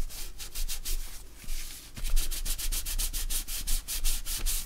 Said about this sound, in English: All I'm doing here is removing excess glue